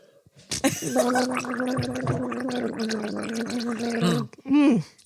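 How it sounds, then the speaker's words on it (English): A person takes a sip of water with a long, voiced gurgling sound, close and loud, ending in a short separate gulping burst. "I'm having a sip of water."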